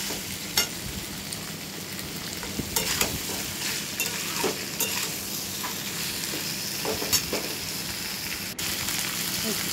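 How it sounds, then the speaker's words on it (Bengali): Mixed vegetables for shukto sautéing with spices in a pan, a steady bright sizzle with scraping stir strokes throughout, close and continuous with no talk. "সবজিগুলো একটু মশলার সাথে ভালো করে কষিয়ে নিয়ে জল দিয়ে ঢাকা দিয়ে দেবো"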